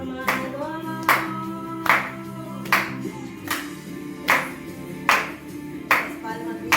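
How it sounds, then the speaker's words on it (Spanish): Rhythmic clapping keeps a steady beat of single sharp claps, roughly one per second, over a sung praise song for children, with singing running continuously underneath. "Las palmas, niños, ahí en sus hogares, alabemos al Señor."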